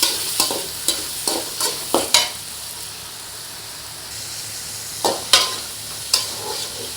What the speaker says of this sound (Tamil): தக்காளி வெங்காயம் எல்லாம் நல்லா வணங்கிட்டு இருக்குது